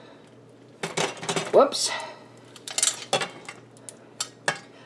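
Extra sharp cheddar tipped into a pot of pasta for bacon mac and cheese, bringing scattered clanks and scrapes of cookware and utensils, with a person speaking in between.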